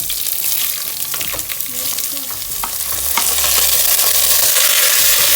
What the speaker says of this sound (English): Now I'm using the same pan for saute the rice.